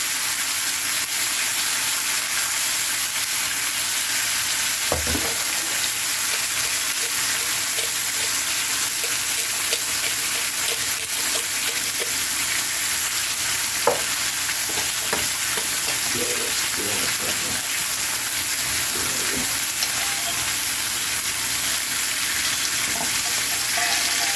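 Burnt bacon bits are scraped off a hot pan during a lentil beef pot roast, a constant loud frying hiss with occasional scraping knocks and clinks over it.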